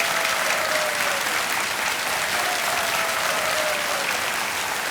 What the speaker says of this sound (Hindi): तालियां बज जाएं फिर से